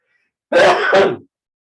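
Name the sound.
sneeze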